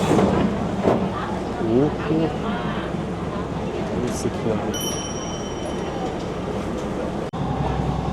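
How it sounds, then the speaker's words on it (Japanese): A train departs Ayutthaya station in Thailand, rumbling and rolling along with a steady low drone and faint clatter, while people chatter nearby throughout. "電車が出発しました。"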